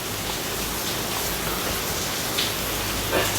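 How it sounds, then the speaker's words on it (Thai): Heavy rain pours down in a steady, dense hiss that fills the whole stretch evenly, close and loud, with no talk over it. "ฝนตกค่าตกแบบ ตกแบบฉ่ำมากอะ"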